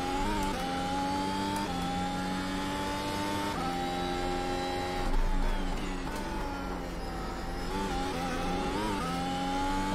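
Mercedes W12 Formula 1 car engine at Bathurst in the iRacing sim: a loud, sustained high-pitched engine whine climbing through gears with brief shift dips, steady and close throughout.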